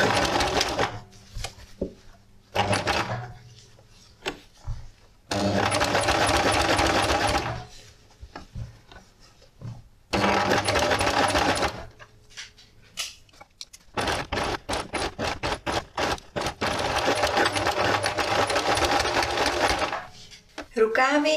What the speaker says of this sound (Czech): Rukávy se mi pěkně šijou tak, že je mám vlastně otočený v rubu a šiju je tímhle způsobem.